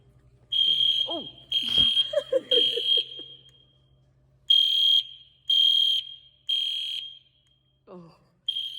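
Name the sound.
church fire alarm ringing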